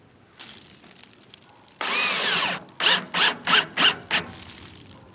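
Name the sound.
screws driven into mailbox side holes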